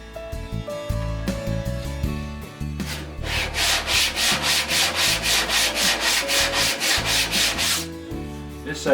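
Rhythmic sanding strokes of 120 grit sandpaper on a Stanley Bailey No. 4 plane under repair, close and loud, first in short uneven rubs, then a steady run of quick back-and-forth scrapes.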